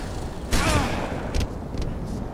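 Weapon fire in Halo Reach with modded unlimited ammo: a loud burst of shots near the middle, followed by a few fainter, shorter shots, over steady game background noise.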